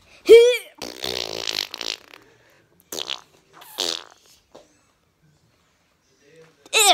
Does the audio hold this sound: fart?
yes